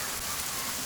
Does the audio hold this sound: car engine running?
no